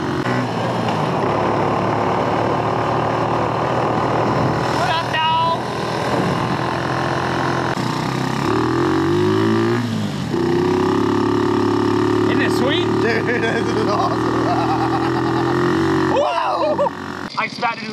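A 110cc three-speed offroad go-kart engine drones loudly and continuously on a top speed run, its pitch rising and shifting as it accelerates, with brief changes in tone suggesting gear shifts and wind noise close to the microphone.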